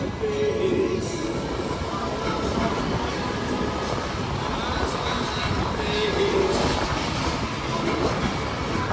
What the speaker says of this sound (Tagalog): Yun yung LRT.